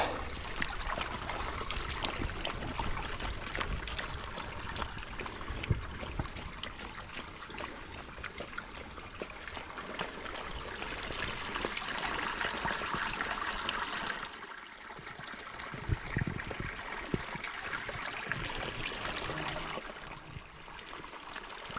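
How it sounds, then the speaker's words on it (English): Water stream flowing and circling around the base of a big oak tree on a rural property, a steady close broadband rush and trickle that dips briefly partway through, with no talk. "The water comes down and it circles right around this big oak, and it goes right that way."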